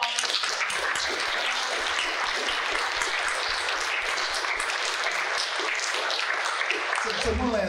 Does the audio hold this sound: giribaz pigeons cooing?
no